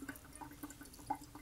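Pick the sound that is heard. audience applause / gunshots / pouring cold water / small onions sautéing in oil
pouring cold water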